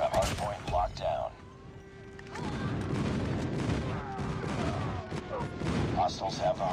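A Call of Duty match with a friendly airstrike rumbling in amid gunfire: bursts of shots, then a long, dense stretch of explosions and shooting, with a voice speaking over the early part.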